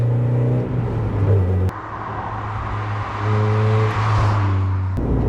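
An Alfa Romeo is driven and followed through the countryside, trailing smoke. The engine drones close and loud, and its pitch changes distinctly twice as it shifts gears and revs.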